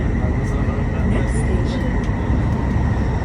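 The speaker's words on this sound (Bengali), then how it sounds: "আবার একটা ট্রেন আসছে।" A driverless metro train in Riyadh rushes past, giving a loud, steady roar and rumble with faint high squeals, filling the whole moment without a break.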